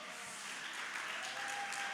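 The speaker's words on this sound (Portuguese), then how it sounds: "Pode aplaudir o nome do Senhor." An audience at a church leadership conference claps steadily in a soft, continuous wash of applause that is heard alone, with no talk over it.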